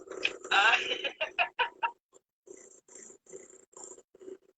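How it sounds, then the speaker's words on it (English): A played-back cat purr effect, rough rhythmic rumbling in short pulses, followed by quieter repeated breathy purring bursts. "It's supposed to be purring."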